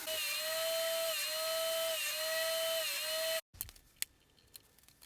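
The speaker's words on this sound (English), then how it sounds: "I set up a stop block on my table saw to make all the repeating cuts of the same length and cut the short pieces" A table saw cuts short pine 1x4 pieces against a stop block: a steady, loud high whine for about three seconds with slight dips as the blade meets the wood, then a sudden cutoff and quieter clatter.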